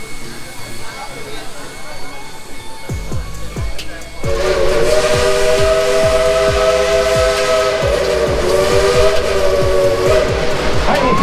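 An old-fashioned steam train at Dollywood amusement park at Christmas, chuffing rhythmically up close before a loud, sustained steam whistle sounds over the steady exhaust beats and hiss.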